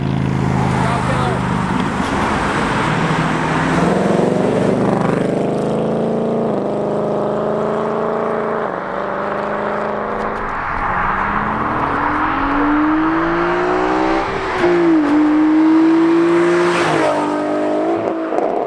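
A Ford Mustang drives past loudly during a meet and cruise on back roads of Vancouver Island. Its engine note rises and falls as it revs, up close and dominant, with voices mixed in.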